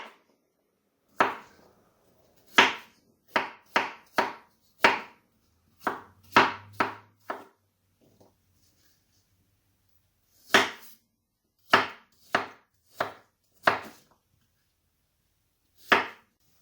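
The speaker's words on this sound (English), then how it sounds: "I've just peeled and cored 5 apples, small apples, and I'm just going to chop them up" A knife chops through firm fruit on a cutting board in sharp, separate strokes, some in quick clusters, with pauses between them.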